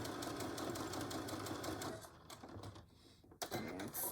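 A home sewing machine runs a short back stitch on a Betty Boop pillow cover, steady rapid whirring for about two seconds, then stopping and starting in brief bursts with a sharp click near the end.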